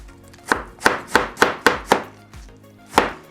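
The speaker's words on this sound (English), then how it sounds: "I'm going to be using about a quarter of this cabbage. Yep, about this. And I'm just going to cut." A knife thinly slices through a quarter of a cabbage on a board, giving six crisp, evenly spaced cuts in quick succession, a short pause, then one more cut, close and clear with no talking.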